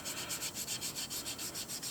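Sandpaper is rubbed over a fossil echinoid sand dollar (Scutillaster major) during polishing, giving steady, rapid back-and-forth scratchy strokes, close and even in rhythm, with no talk.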